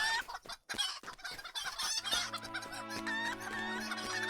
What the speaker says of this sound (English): I can hear a lot of chicken clucking noises now